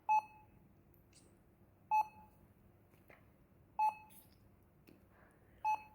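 Four short electronic beeps sound alone, evenly spaced about two seconds apart, against quiet background hum.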